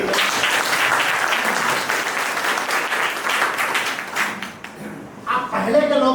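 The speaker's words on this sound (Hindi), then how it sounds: "एक बात ताली बजाइए।" Audience at a health and wellness meeting bursts into sustained, dense clapping that fills the room for several seconds, then thins into scattered claps as a voice starts speaking over it near the end.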